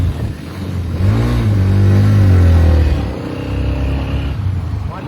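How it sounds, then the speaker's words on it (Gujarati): An X Trem 125 motorcycle engine revs up loudly nearby, climbing in pitch over about two seconds, holding, then dropping back to a rougher idle. "બાઇકનું સાઉન્ડ એટલું જોરદાર છે ને તો જોવાય હોભળો તમે"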